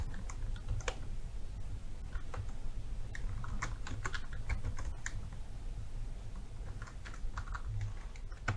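Fingers tap steadily on a computer keyboard nearby, quick irregular clicks entering an email address and password, with a low hum underneath and no voices.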